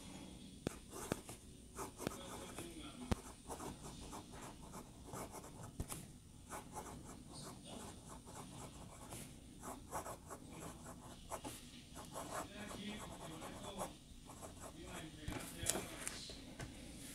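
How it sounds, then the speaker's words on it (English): A fine-nib WoodShedPenCo fountain pen scratches steadily across paper in close, continuous strokes, with small pauses between words and a soft, dry texture throughout. "Let's do a quick writing sample with it."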